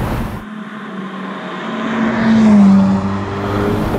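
A 710 hp Ferrari F8 Spider's engine hums under way, its tone rising steadily as the car accelerates, then holding a strong, close drone from inside the open car.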